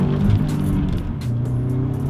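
An Audi A4 all-wheel-drive car, turbocharged to roughly 250 horsepower, hums with a steady, fairly loud engine drone while taking a turn, the tone holding even with slight shifts throughout.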